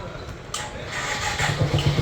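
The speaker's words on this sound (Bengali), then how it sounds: "আমরা এখন বাইকটা স্টার্ট করে দেখব" Motorcycle with a weak battery starting after a carburetor float pin change, a brief crank catching into an uneven running engine, close by, with voices over it.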